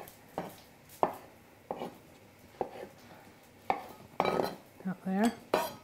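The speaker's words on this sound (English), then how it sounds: "Cut these spuds down." A kitchen knife chopping potatoes on a board for a barbecue potato salad, about ten separate close, crisp cuts at an uneven pace, a few clustered toward the end, with no talk.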